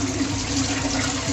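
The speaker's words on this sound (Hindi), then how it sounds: "बस ये मेरे दोपहर के थोड़े से बर्तन है, साथ साथ में ये धो लूँगी।" Tap water runs steadily while a few lunchtime dishes are washed at a home sink, a constant close splashing stream with a faint tonal hum beneath it.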